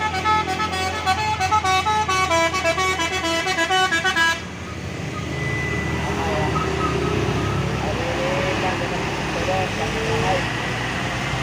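A trailer truck's telolet horn plays a rapid, repeated melodic tooting pattern, loud and close, for several seconds, then cuts off abruptly, leaving rumbling road and engine noise with a rainy wash.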